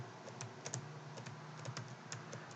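Arrow keys on a computer keyboard tap out a quick, irregular series of faint clicks, close up, with a quiet hum underneath and no talking.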